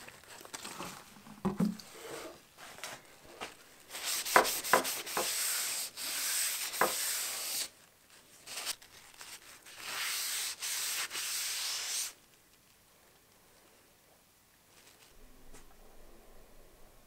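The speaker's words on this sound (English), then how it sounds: "Then I sanded it and cleaned it again" A wooden broom being sanded by hand, with bursts of scratchy, raspy rubbing that start and stop, alternating with quieter pauses, close and fairly loud, with no talk.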